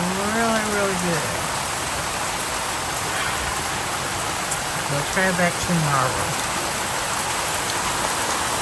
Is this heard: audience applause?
no